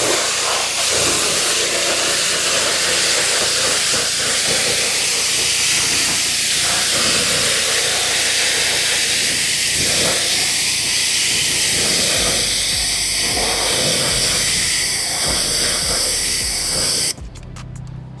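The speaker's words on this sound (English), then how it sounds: "Now the last step is gonna rinse it down." A pressure-washer spray hisses loudly and steadily while rinsing car wheels and tires, a continuous close rushing jet that shifts slightly as it moves across the surfaces, then cuts off near the end.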